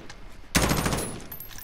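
A sudden burst of rapid gunfire in the video game Call of Duty Modern Warfare breaks out after a quiet moment, loud and close, with a dense rattle that continues to the end.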